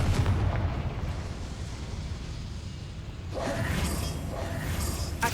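A Confringo fire spell blasts in the Hogwarts Legacy game, a rumbling explosive burst with a second crackling surge midway, fairly loud and dense, with no talking over it.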